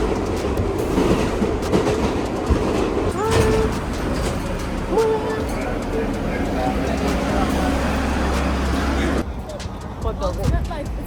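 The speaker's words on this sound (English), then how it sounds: "uptown trains will stop at the downtown level platform" A New York subway train rumbles and clacks past on a Labor Day service change, a steady, fairly loud roar filling the whole stretch while people talk over it.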